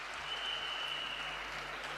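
Steady, dense applause from an audience at a direct-selling motivational event in India, loud and continuous throughout with no talk over it.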